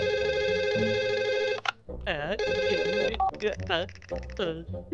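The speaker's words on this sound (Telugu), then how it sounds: "మళ్ళీ ఫోన్ రింగ్ అవుతుంది." A telephone in an animated cartoon rings with a steady electronic tone, pauses, then rings again, while a voice speaks over and between the rings.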